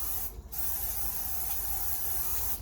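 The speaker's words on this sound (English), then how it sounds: "I'm going to put some non-stick spray in here." A steady non-stick cooking spray hisses continuously from an aerosol can at close range, greasing a pan for chocolate cake, with a brief dip near the start and no talking.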